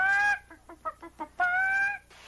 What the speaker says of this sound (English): Now this is a hen cackling contest.